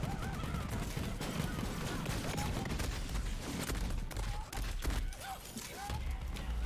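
Rapid gunfire and impacts in the co-op shooter game Borderlands 3, dense and continuous throughout with overlapping bursts and occasional electronic tones.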